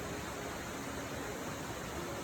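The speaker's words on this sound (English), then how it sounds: "The sight and sound of the water tumbling is simply mesmerizing" Twin waterfalls where Curtis and York Creeks merge, dropping at least 150 feet, give a steady, even hiss of tumbling water, faint and distant with no break.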